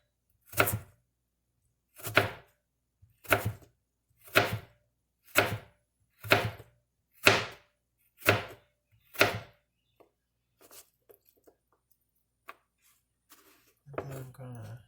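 A knife slicing a jicama into julienne strips on a cutting board: about nine evenly spaced crisp cuts, each a sharp close thunk, followed by a few faint taps and quiet handling.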